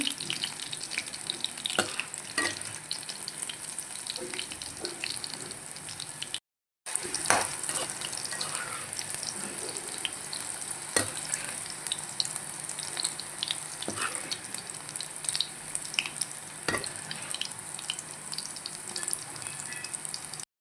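Ingredients for a tomato chutney fry in a pan, giving a continuous close sizzle with occasional sharp clinks and stirring scrapes and one very brief dropout, no talking.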